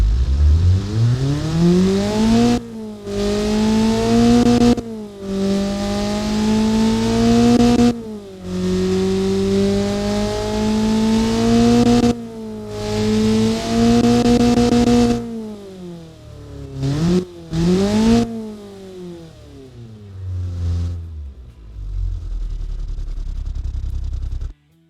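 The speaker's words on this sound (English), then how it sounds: "this thing actually sounds pretty sweet for a 4-cylinder engine" An old-school 4-cylinder engine with mechanical fuel injection in the Automation and BeamNG driving games, revved hard in repeated sweeping bursts that climb and fall between short gaps, loud and close with no talk.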